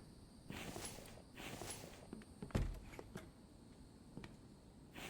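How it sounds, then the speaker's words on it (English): Quiet footsteps in the game The Infected, soft irregular steps indoors with one heavier thud near the middle, faint and unaccompanied. "Thought I heard somebody else's footsteps."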